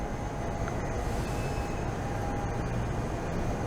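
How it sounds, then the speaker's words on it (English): A train rolls past near a historic train station, a steady low rumble with faint rail clatter at moderate distance and no talking. "Here comes the train."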